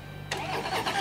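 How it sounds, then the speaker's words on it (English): A 2014 Harley Davidson Wide Glide motorcycle cranks and fires up, a short burst of starter whir catching into a loud, rough engine rumble that settles close by. "Steve's gonna fire it up for us real quick."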